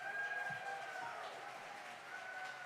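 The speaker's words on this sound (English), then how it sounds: "Please give a thunderous round of applause for our guest vocalist today" An audience applauds a guest vocalist with a steady, moderately loud wash of clapping that holds throughout, crowd noise blended underneath.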